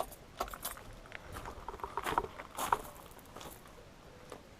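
A bunch of keys jangles and clinks in a few short bursts, fairly close and moderately quiet, with soft handling noise and a low background hum between the rattles.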